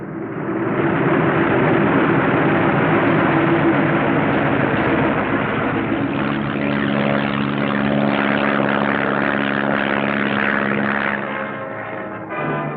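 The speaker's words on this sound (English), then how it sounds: "a first flight takes off in the sunrise, others following at regular intervals" Several propeller-driven warplanes take off from an Aleutian island airfield at sunrise on bombing runs, their engines a loud, sustained roar that swells, with a steady engine drone and a shift in pitch as another aircraft passes close.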